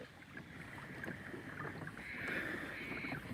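Hobie pedal kayak moving along a river after floods, with a steady close swish and gurgle of water against the hull plus some wind noise, continuous and without speech.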